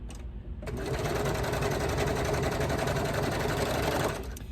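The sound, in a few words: Brother Lock 1034D serger sewing fabric edges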